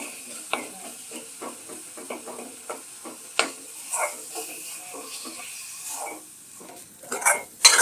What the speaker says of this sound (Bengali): যত লাড়বেন তত টেস্ট এই যে অনেক ধরে লাট আছি আরও লাড়বো